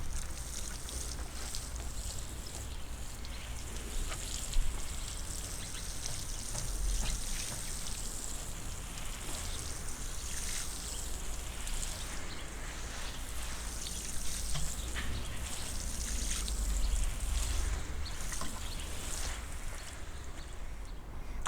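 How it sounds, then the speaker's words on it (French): Steady, close hiss and patter of water sprinkled over freshly planted beetroot seedlings in a small city vegetable garden, continuous and even throughout with no talk. "Donc allez, un petit arrosage."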